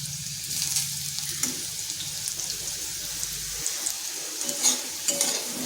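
Potato pieces frying in oil in a pan, a continuous soft sizzle punctuated by occasional scrapes and stirring knocks, close and moderately quiet.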